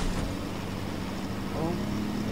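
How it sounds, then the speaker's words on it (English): Yellow truck engine in Fortnite, a steady low rumble running loud and continuous throughout, with game ambience layered on top. "No, the sound I was hearing was the typical truck."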